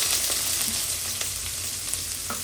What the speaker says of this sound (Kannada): ಫಸ್ಟು ಎಣ್ಣೆ ಹಾಕಿ ಆಮೇಲೆ ಸಾಸಿವೆ ಹಾಕಿ ಸ್ವಲ್ಪ ಜೀರಿಗೆ ಹಾಕಿ ಆಮೇಲೆ ಬೆಳ್ಳುಳ್ಳಿ ಹಾಕಿ ಫ್ರೈ ಮಾಡ್ಕೊಳ್ಳೋಣ.